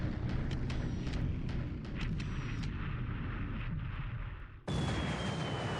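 A World War II strategy video game plays torpedo hits as a string of muffled explosions and sharp bursts over a dense rumble. It ends with an abrupt loud blast.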